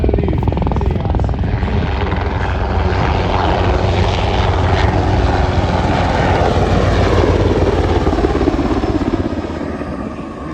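MH-60R Seahawk military helicopter flying a solo handling display overhead at a night air show, a loud continuous rotor thrum and turbine roar that holds steady for about ten seconds with no voices over it.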